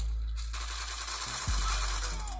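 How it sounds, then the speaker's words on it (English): Gunfire in a mobile shooter game such as Call of Duty Mobile, played on a OnePlus Nord N10 5G, a quiet bursty rattle of shots with a dull thud midway and no speech. "there was like 3 people shooting at me at once"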